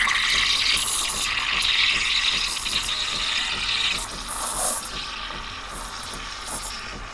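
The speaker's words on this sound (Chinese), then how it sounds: "然后呢我们先放在这个表层，先让它有突突突的有气泡出来" A home espresso machine's steam wand frothing milk, with a loud rapid sputtering and hissing while the tip sits at the milk surface, then a quieter, smoother hiss with faint gurgling.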